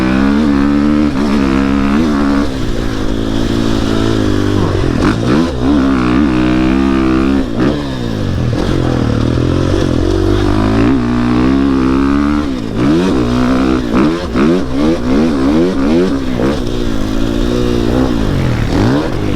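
A 2021 GasGas MC450F dirt bike on a test ride, its engine revving up and down repeatedly through the gears, loud and close with rising and falling pitch sweeps throughout.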